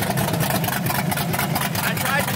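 Engine of an LS3-swapped Porsche 911 running with a deep, throbbing rumble, close and steady, with people talking over it.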